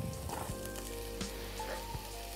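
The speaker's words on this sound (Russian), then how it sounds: "Жарю сельдерей и кабачок." Celery and zucchini sizzle and fry in a pan with a steady crackle, a few soft stirring clinks and scrapes on top.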